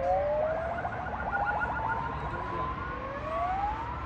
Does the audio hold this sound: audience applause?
no